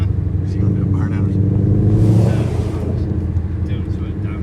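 Supercharged 2018 Ford Mustang Coyote VMP Odin engine revving hard for a burnout, a loud steady rumble that swells to a peak midway and then settles, with people talking over it.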